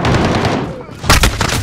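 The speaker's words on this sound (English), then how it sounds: "Rocket launcher." A rocket launcher explosion in Call of Duty Modern Warfare multiplayer, with loud gunfire and booming blasts that fade and then come back as a sharp burst of close impacts.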